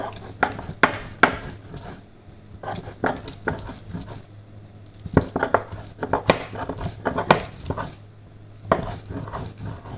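Lightly fried onion is tipped into a cooking pot, giving a series of sharp metallic clinks and clatters of a utensil on cookware with soft patter between them, close by and with no talking.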